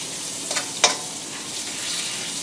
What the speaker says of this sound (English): I'm going to add a little bit of butter. Turn the heat back up.